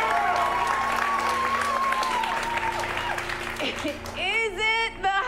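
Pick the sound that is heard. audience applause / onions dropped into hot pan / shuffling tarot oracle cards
audience applause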